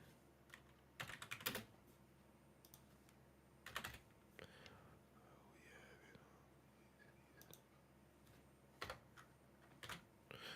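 Computer keyboard typing in short bursts of rapid clicks, with quiet gaps between clusters, fairly close but low in level, with faint murmuring in the background.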